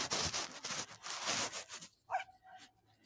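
A dog in an outdoor setting gives a short bark followed by a thin whine, while louder broadband noise and bustle from a busy courtyard come before it.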